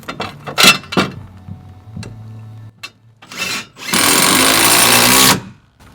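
Power driver running an SDS structural screw into a steel hold-down on a wood-framed wall during house framing, preceded by a few sharp knocks and clicks, then about a second and a half of loud, steady whirring drive close by.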